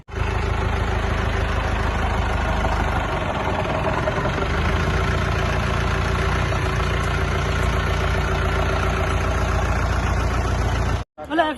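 A vehicle engine idles steadily as it arrives, a loud low rumble running throughout with people talking over it, cutting out briefly near the end.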